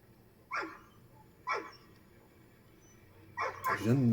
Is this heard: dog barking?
yes